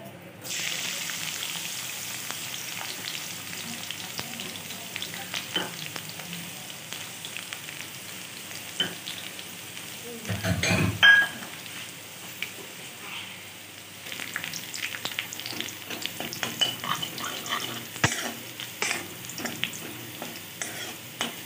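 Garlic frying in mustard oil in a wok for an arbi leaf saag, a steady close sizzle with scraping stirs and a brief louder burst partway through.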